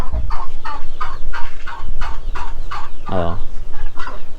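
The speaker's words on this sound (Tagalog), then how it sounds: "andito tayo sa kulungan ng manok" Chickens of mixed breeds cluck in a coop with wind buffeting the mic, a quick run of regular calls broken by one louder, harsher squawk; a person briefly exclaims at the start.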